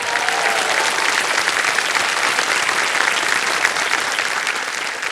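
Steady, dense applause from a studio audience on a televised quiz show, loud and continuous throughout with no voices over it.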